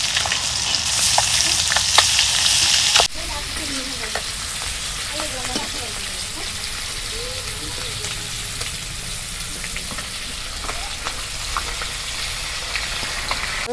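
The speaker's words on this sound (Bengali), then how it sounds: "সুন্দর করে মাছ ভাজতেছি" Fish fries in hot oil with a continuous close crackling sizzle, bright and loud for the first few seconds, then settling into a steadier, softer hiss with occasional pops and faint distant sounds.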